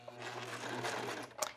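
A serger stitches together the waistband of a tulle skirt, giving a steady, fairly quiet mechanical hum for about a second and a half, with a brief sharper clack near the end.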